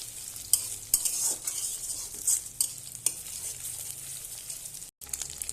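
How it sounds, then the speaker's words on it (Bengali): Salted, whisked egg sizzling in a hot pan, a steady close hiss punctuated by sharp clicks and scrapes of stirring, with a brief drop near the end. "এবার ডিমটা ভালোভাবে একটু ভেজে নেব।"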